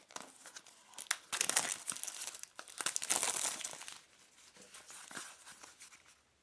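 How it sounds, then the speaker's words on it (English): Shrink wrap being peeled and torn off the box of an ICZI USB-C to HDMI 4K multiport adapter, a run of close crinkling and tearing bursts that peak midway and then trail off into softer rustles. "we do that by, of course, peeling off the shrink wrapper"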